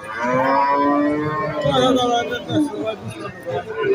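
A bull at a cattle market, sold by meat weight ahead of the Qurbani Eid, lets out a long, loud moo close by, with faint crowd chatter in the background.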